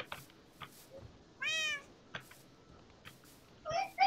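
A cat in the Minecraft video game gives two clear rising-and-falling meows a couple of seconds apart, heard alone over faint clicks and quiet background noise.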